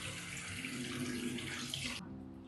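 Water runs from a tap into a bowl for mixing a face pack, a steady close splashing stream that stops abruptly near the end, leaving a faint low hum.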